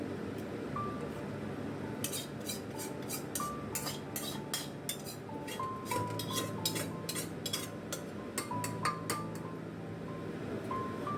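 Metal utensils clink and scrape against a pressure cooker as Bengali-style mutton curry pieces are moved into it, with repeated bright taps and clatters over steady kitchen background noise.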